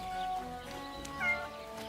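A cat in the medieval role-playing game Kingdom Come: Deliverance 2 gives one short, close meow, heard alone over quiet game ambience.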